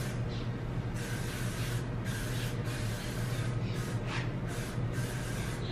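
Short hissing bursts of sunscreen spray come one after another in a loose rhythm, close and fairly soft, against a steady low background hum.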